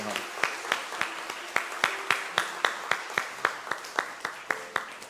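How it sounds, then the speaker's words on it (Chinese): Steady rhythmic hand clapping from a church congregation in welcome, roughly a dozen sharp claps evenly spaced, fairly close and loud, with no voices over it. "我们拍手来欢迎"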